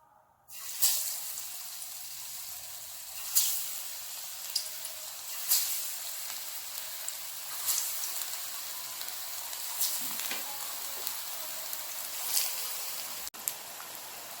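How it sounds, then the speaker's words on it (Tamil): Vadas deep-fry in hot oil in a pan with a steady, dense sizzle and crackle that swells in periodic bursts and continues alone, with no voices. "காஞ்சோன்னு இந்த வடையில் சேர்த்து பொரிச்சு எடுத்துக்கலாம்."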